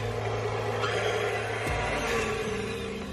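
Blender whirring through pumpkin puree, a steady loud motor drone that shifts pitch partway through as the blades catch, running continuously without talk.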